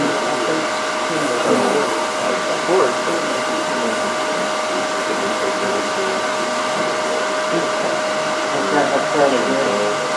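A wooden Christmas ornament spins on a lathe while being sanded with 320-grit sandpaper. A loud, steady motor whine and hum carries a faint scratchy rasp, and it runs continuously with no talk.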